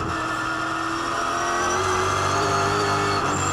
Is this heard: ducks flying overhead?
no